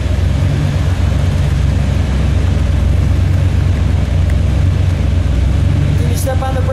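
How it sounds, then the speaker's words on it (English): A 1970 Iso Grifo with a 7-litre Chevrolet big-block engine runs at a steady, loud, deep rumble close by, while people talk over it. "Sounds so Chevy big block, doesn't it?"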